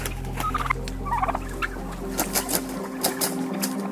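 Turkeys gobble and cluck in a busy flock inside a crowded free-range barn, several birds calling over one another above a low, constant hum.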